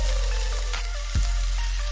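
Jerk chicken breast sizzles steadily in a hot pan with a constant crackle, and a short thump and louder burst of sizzle come as the piece is flipped.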